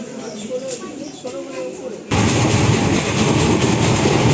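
A passenger train running on rails between Kolkata and Malda, first heard as a quieter rumble inside a carriage, then jumping abruptly to a loud, steady roar of wheels and wind, continuous throughout.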